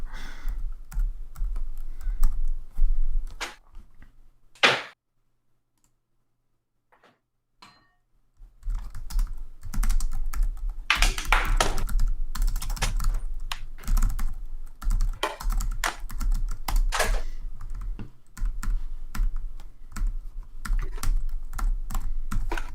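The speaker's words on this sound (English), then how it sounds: "I'm gonna get out my non-clicky keyboard so I can be in the voice chat and not have to mute myself every 3 seconds." Typing on a non-clicky computer keyboard at a desk, soft muted keystrokes in steady bursts, pausing briefly near the middle before resuming as a continuous patter, close and fairly quiet with no talking.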